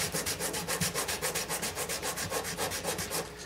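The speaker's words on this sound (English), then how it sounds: "I'm going to double check that the bottom of my saddle's even flat here and just sand it flat real quick just to make sure." Steady back-and-forth sanding strokes as the bottom of a Gibson guitar saddle is rubbed flat, about six raspy passes per second in an even rhythm, close and alone.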